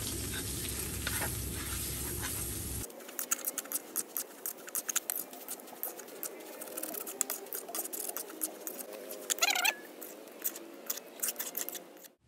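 Oil sizzles and crackles in a pan with crushed galangal for soto Lamongan, cooked at a village hut, with a loud frying burst at the start, then steady spitting and stirring clatter close by.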